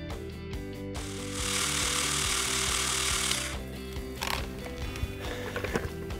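A Ryobi cordless chain pole saw cuts a branch overhead, its motor whining in a loud sustained burst that then tapers into rattling and thumps of wood falling, with background music throughout.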